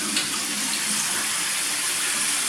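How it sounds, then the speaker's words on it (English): Tap water flows through hose pipes into a sink in a steady broadband rush, close and continuous, with no voices. "you turned those taps on and the water then flowed into that sink"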